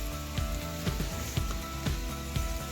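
Dried chiles bubble gently in hot oil over low heat while making birria de res, giving a soft, quiet sizzle with small crackling pops repeating roughly every half second.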